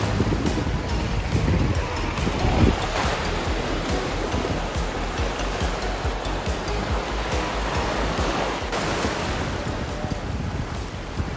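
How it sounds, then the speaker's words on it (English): Rough, churning ocean waves near Puerto Limón, Costa Rica roar steadily and loudly, with wind buffeting the microphone throughout and no talking. "The ocean today is very angry."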